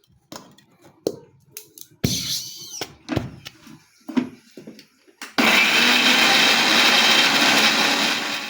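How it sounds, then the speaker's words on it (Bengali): A few scattered knocks and clatters from loading a mixer grinder, then a loud, steady whirring roar as it starts blending kharkol leaves. "এবার আমি পাতাগুলো মিক্সিতে দিয়ে মিক্সড করে নেব।"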